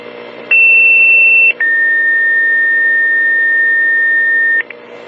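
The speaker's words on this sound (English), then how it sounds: "Receive all units, stand by for tones." Two long electronic Fair Lawn, New Jersey fire dispatch alert tones sound for a second-alarm attic fire at an IHOP restaurant on Route 4 Broadway: a short higher steady tone, a brief gap, then a longer slightly lower steady tone, loud and clean over faint radio hiss.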